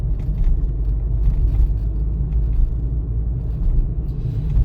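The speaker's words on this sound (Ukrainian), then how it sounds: "зараз я їду, ніде не зупиняюсь" Car interior engine and road rumble during a driving exam in a city street, a steady low drone with tire noise continuing throughout, no stops.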